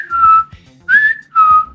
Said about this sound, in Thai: ก็เดินอารมณ์ดีผิวปากเข้าไปอยู่ดี